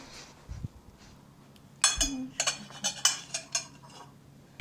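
Plates and cutlery clink in a series of sharp, close knocks while a plate is fetched in a home kitchen, a low voice murmuring briefly at the start.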